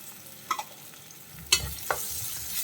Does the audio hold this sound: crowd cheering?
no